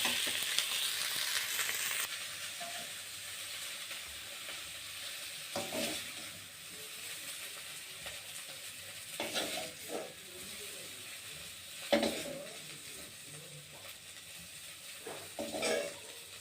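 Cauliflower florets fry in oil in a pan, a continuous close sizzle and hiss, louder at first, then punctuated by several scraping stir strokes at irregular intervals. No one talks.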